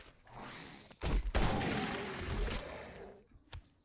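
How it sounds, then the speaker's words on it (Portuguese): A burst of video game gunfire erupts with sharp cracks and a rumbling blast, followed by a single isolated shot near the end. "Ah, vou ter que dar tiro, vou ter que dar tiro!"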